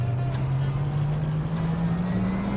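A Ferrari engine from the racing game GTR2 drones steadily, one loud continuous tone that climbs gradually in pitch as the car accelerates, with no voices over it.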